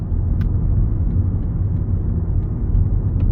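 Volvo S60 D5 automatic diesel car driving around a roundabout, heard from inside as a steady, loud low engine rumble and road noise with no break.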